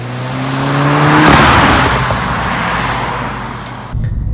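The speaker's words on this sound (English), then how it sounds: "Now with the R600 there was a subtle intake sound that wasn't there before." A Volkswagen MK7 Golf GTI Clubsport S with a turbo inlet pipe revs up, its engine note climbing under a rising intake whoosh, peaking, then settling into a steady drone with a brief surge near the end, loud and close with no talk.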